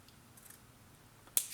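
Scissors snip once, a short sharp cut near the end as a paper gluing strip is bevel-cut in a craft album project; the rest is quiet room tone.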